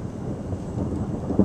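Low rolling thunder from a summer storm, a steady distant rumble with a little swell near the end.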